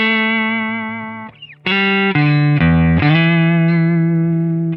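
Heavily distorted electric guitar plays the intro riff of a song, sustained notes loud and close, with a brief gap and slide before the chords ring out.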